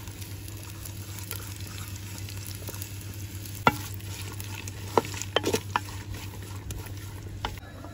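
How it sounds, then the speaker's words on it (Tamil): Onions and chilies fry in oil in a clay pot, a steady, even sizzle with a low constant hum beneath it and a few soft clicks and scrapes from stirring, with no talking. "தக்காளி வெங்காயம் வசக்கணும், அதுக்கு வந்து கொஞ்சம் எண்ணெய் தேய்ச்சி எடுத்துக்கிறது"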